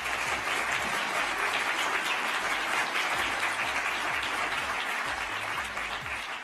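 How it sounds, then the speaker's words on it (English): A conference audience applauds steadily and loudly throughout, a dense wash of clapping with no pause. "Let's give him a round of applause for that."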